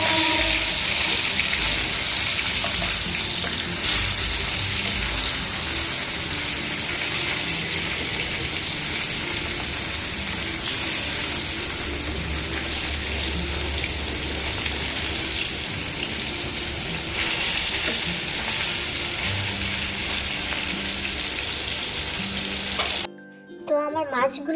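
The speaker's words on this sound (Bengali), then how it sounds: "চলুন মাছগুলো ভেজে নেওয়া যাক।" Tilapia fish pieces rubbed with turmeric and salt fry in hot oil, giving a loud, steady, close sizzle that runs unbroken for the whole stretch, ending in a brief clatter, with no talk.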